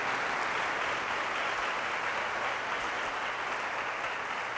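Steady, dense audience applause fills the room at a prayer breakfast, a continuous wash of many hands clapping at even loudness throughout with no gaps and no talk.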